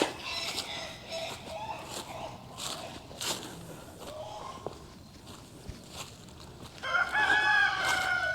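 Roosters crow nearby, several calls overlapping with clucking chickens and faint footsteps in the background on a farm.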